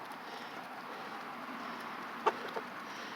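Hens cluck softly in short bursts while eating rolled oats, over a steady rushing background, a couple of brief sharp calls standing out near the end.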